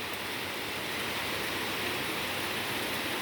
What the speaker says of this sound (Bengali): বৃষ্টির শব্দে ঘুম ভেঙে গেছে আমার।